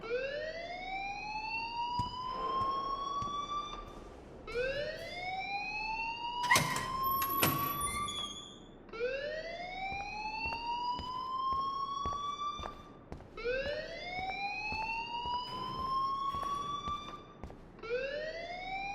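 Alarm in the video game Life is Strange, a rising electronic wail that sweeps upward and repeats about every four seconds, steady and fairly loud, with faint clatter between the cycles and no talking.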